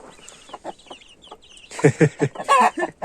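Village hens with chicks cluck in a busy run of short, clipped bursts that grow louder and denser toward the end, close by and with no talk over them.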